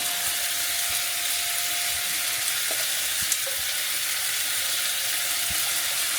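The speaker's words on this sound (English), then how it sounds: "Cooking the steaks, they're coming out beautifully right now." Steaks and garlic sizzling in a pan, a steady hissing fry that holds at an even level throughout with a few faint clicks and taps, no voices.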